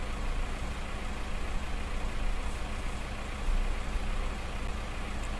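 A loud tractor engine in a Farm Sim video game drones continuously at a steady, low rumbling idle throughout, heard alone with no talk.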